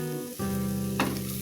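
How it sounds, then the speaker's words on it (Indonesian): Snow peas stir-fried with fried garlic sizzle steadily in a pan, with a brief scrape of stirring partway through and no talking. "Aduk lagi sebentar hingga bawang putih tercampur rata."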